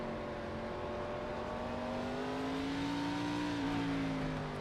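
A NASCAR Xfinity Series race car lapping the Mid-Ohio road course, its engine droning steadily at high revs with a rising and easing pitch as it works through the corners, loud and close throughout.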